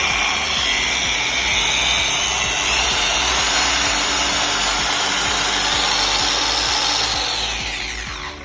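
A Lake Country UDOS 51E polishing machine running in sander mode, a steady loud electric whir with a grinding, rubbing edge held throughout at close range, tapering slightly at the end, no talking.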